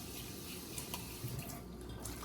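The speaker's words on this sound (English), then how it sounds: "I add some water to the pot" Water poured into a cooking pot holding onions for West African palm butter soup, a steady close splashing and trickling that runs evenly throughout with no voices.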